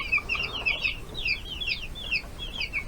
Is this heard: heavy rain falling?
no